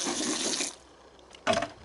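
A garden hose sprays water over a vacuum's dust container, a hissing splash that stops briefly and then bursts again.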